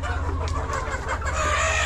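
Chickens on a poultry farm cluck and crow in a dense, continuous chorus, loud and close with many overlapping calls.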